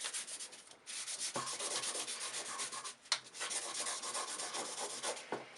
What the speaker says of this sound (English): Then we get an inside buffing stick, put it on there, give it the old mahui.